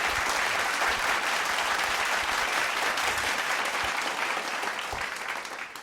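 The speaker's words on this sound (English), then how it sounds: "So let's give a round of applause for Andy Blum." An audience applauds steadily at an awards event, dense continuous clapping from a large crowd that tapers slightly toward the end.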